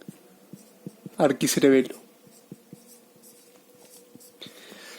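Chalk or marker writing on a board during a Spanish-language anatomy lecture on the cerebellum: soft, faint scratchy taps in an irregular rhythm, briefly under a man's spoken word before continuing quietly on their own.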